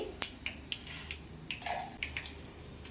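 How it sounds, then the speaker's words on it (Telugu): Mustard seeds spluttering in hot oil for a tempering, a series of sharp scattered pops and crackles at close range, irregular and alone without speech. "మొదటిగా తాలింపులోకి ఆవాలు వేసానండి"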